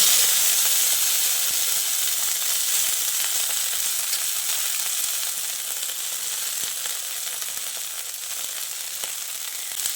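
Drumstick flowers and small dried chillies sizzle in hot oil on a gas stove. A loud, dense, steady hiss and crackle runs without a break and eases off slightly toward the end.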